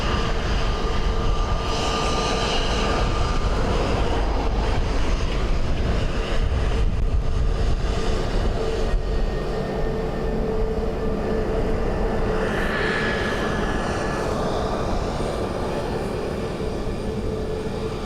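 A fixed-wing airliner arriving to land on runway 2 left at Dublin Airport in gusty wind, its engines a steady broad roar that swells slightly midway, loud and continuous throughout with no talk.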